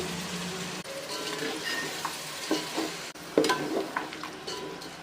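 Mutton pieces coated in masala and yogurt frying in a pan, a steady close sizzle with scraping stir strokes and a few clinks, no one speaking.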